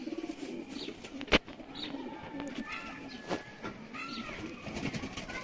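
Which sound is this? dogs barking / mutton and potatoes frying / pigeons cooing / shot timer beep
pigeons cooing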